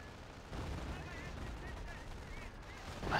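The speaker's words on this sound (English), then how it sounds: "an off-map Howie shot called in on that bunker" Off-map howitzer artillery fire lands on a bunker in a strategy video game, a dull rumbling barrage of muffled blasts rolling on beneath faint background sounds.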